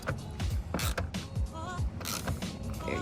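A socket wrench ratchets in quick repeated bursts while snugging a screw into a snap-in fender on a 2021 Sea-Doo RXP-X 300, the clicks close and fairly loud with brief pauses between strokes.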